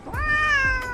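A pet cat meows in one clear, drawn-out, rising-and-falling call lasting about a second, close and loud, with nothing else competing.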